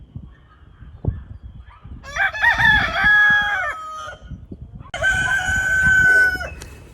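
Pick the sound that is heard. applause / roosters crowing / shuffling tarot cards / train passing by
roosters crowing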